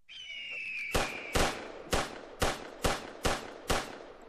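Seven sharp gunshots from a Wild West quick-draw VR video game crack out at a steady rhythm, close and loud, after a short high whine.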